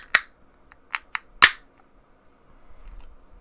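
Can of Three Harvest DIPA from Wild Leap Brew Co being opened, a few sharp close clicks and a crisp crack of the tab, followed by a faint fizzy hiss.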